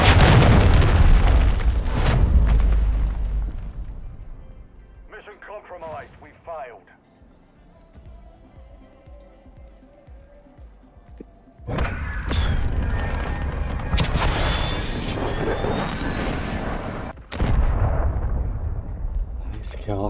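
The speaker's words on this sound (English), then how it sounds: "Hostiles launched a cruise missile." Cruise missile explosions in the Modern Warfare 3 video game: heavy booming blasts and rumbling impacts, loud at the start, a quieter lull, then a second sustained burst of explosive crashes near the end, with game voices underneath.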